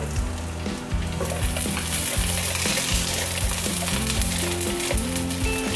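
Chopped onion hits hot oil already fragrant with five cloves of minced garlic, a steady loud sizzle and crackle of frying with the rhythmic scrape of stirring, no voices, while cooking a big pot of monggo.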